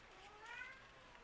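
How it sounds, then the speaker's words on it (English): A house cat meows insistently, crying to be let outside, in a drawn-out plaintive wail in the background of a quiet room, with no talking over it. "I have an upset kitty. You can probably hear her in the background."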